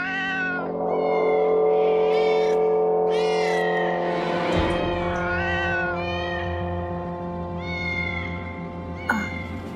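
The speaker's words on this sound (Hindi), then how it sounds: "उस ब्लैक वाली बिल्ली की जो खिड़की के बाहर है ना" A black cat cries loudly outside a window, with long drawn-out wailing meows repeating one after another, close and prominent over a low background hum.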